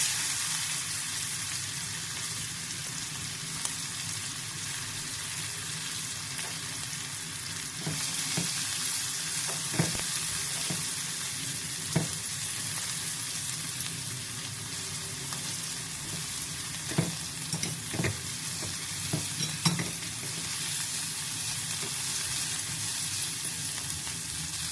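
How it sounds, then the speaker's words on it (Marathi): Onion fries with turmeric in a pan, giving a steady loud sizzle throughout, with occasional scraping stir clicks from a utensil and no voices. "हळद घालते आहे थोडी आणि यावर घालूया कांदा।"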